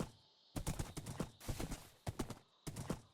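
Horse hooves clip-clop in the Minecraft video game, in a Cowboy SMP world, sounding as several quick bursts of clopping steps separated by short pauses, close and clear with no talking.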